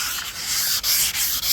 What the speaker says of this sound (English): We're going to do the same thing with the sanding block.